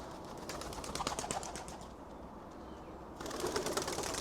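Racing pigeons around a loft flutter and flap in a steady stream of soft wingbeats that eases briefly and then resumes, with faint cooing beneath.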